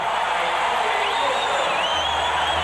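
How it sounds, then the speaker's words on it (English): A capacity arena crowd at Saskatchewan Place roars and cheers in a dense, continuous wash as the second period ends in a 1989 Memorial Cup final hockey game between the Saskatoon Blades and Swift Current Broncos. "the capacity crowd at Saskatchewan Place again up on their feet, congratulating and saluting the Saskatoon Blades"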